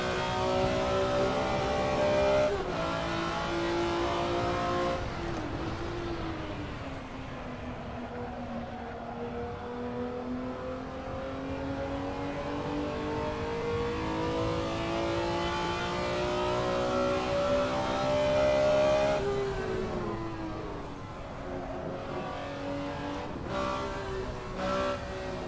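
BMW M1 Procar racing car engine in a racing sim, revving steadily and climbing through the rev range in long sustained pulls, dipping between gear changes around the midpoint and again near the end, loud and continuous with no talk.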